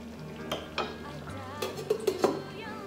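A metal lid goes onto a cooking pot of chicken afritada in tomato sauce. Several sharp clanks and clinks of metal on metal come close together near the end, over a faint simmering background.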